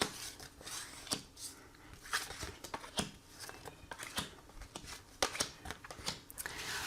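Oracle cards are shuffled for a tarot-style reading, giving a quick run of crisp riffling and slapping bursts, close and fairly quiet, with no talking over them.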